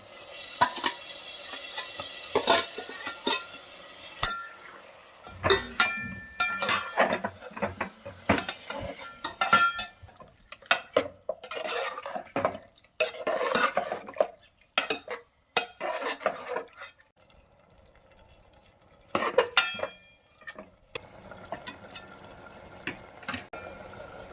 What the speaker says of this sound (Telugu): అన్నీ అయితే వేసినప్పుడు మటన్ వేసుకుంటున్నాం